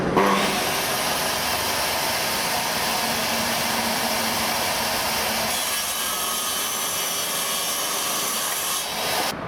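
A small table saw cuts through wood in one long, loud, continuous rasping whine that changes tone partway through and cuts off near the end.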